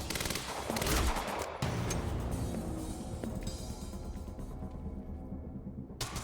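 Rapid gunfire in the video game Quantum Break rattles loud and close in dense bursts, some shots punched through a wall, with a few heavier cracks and a brief drop-off near the end, no voices over it.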